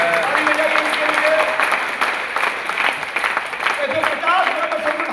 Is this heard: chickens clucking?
no